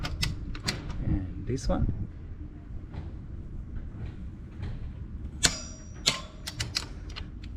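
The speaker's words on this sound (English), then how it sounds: "we're gonna tighten until we hear a click" A torque wrench tightens the front brake caliper bolts on a BMW G650GS motorcycle to 41 Newton meters, giving a series of sharp, close metallic clicks and ratchet ticks, with a person speaking briefly.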